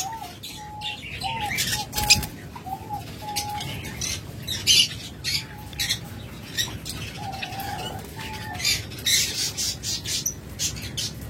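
A pair of caged birds squawk and chirp repeatedly at close range, with sharp calls scattered irregularly over a low background hum and no talking.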